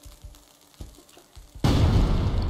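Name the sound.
worm's death explosion in the video game Worms Ultimate Mayhem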